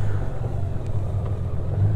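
A Honda Goldwing 50th anniversary motorcycle cruising at about 30 km/h and 1250 rpm: a steady, low, smooth engine hum with wind noise, continuous and close, with no talking.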